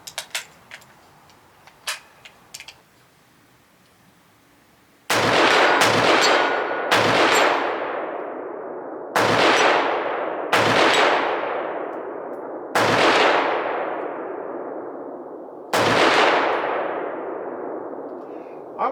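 Rifle shots at an outdoor range ring off steel targets, including round plates and an IPSC silhouette. Six loud reports arrive at uneven intervals, each with a long metallic ring that fades, after a few faint sharp knocks.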